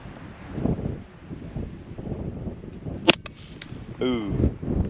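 A rifle fires a single sharp shot at long range toward metal targets, with a faint ring afterward, while people talk quietly around it and wind buffets the microphone.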